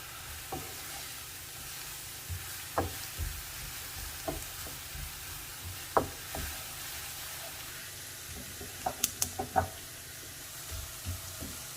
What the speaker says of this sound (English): You'll want to sauté until everything is softened and the onions are translucent.